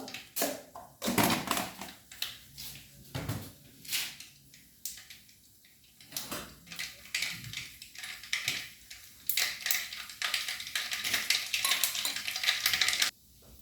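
Mustard seeds hitting hot coconut oil for a pickle tempering, with green chillies and curry leaves going in, crackle in bursts of sharp popping and sizzling that come and go in clusters, close and moderately loud with no talk.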